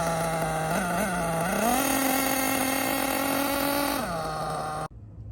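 A Losi LST RC truck engine runs steadily and close, with a buzzing nitro-style drone that rises in pitch for a couple of seconds and then drops back before cutting off abruptly.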